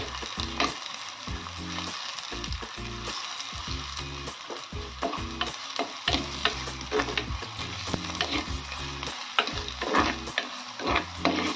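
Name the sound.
garlic paste sautéing in pan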